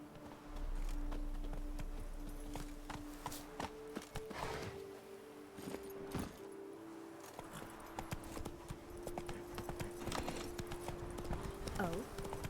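Hooves of Roach, the horse in The Witcher 3, clip-clop in a fast rhythmic gallop across a game soundscape, with a faint whinny partway through and steady game ambience underneath.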